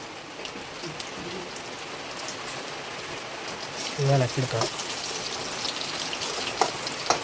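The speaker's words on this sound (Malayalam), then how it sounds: "നമുക്ക് ആകെ നല്ല മഴ പെയ്യുന്നത്." Heavy rain falls steadily throughout as a constant wash of drops, with a person talking partway through over the downpour.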